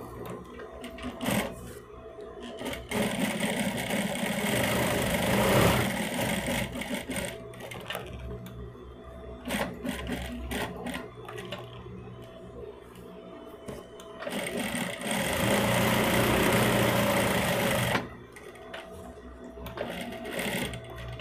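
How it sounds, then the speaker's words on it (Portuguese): A sewing machine stitches a bag in rapid, rattling bursts that start and stop, with a long steady run near the end and quiet pauses between. "Bem, vamos costurar."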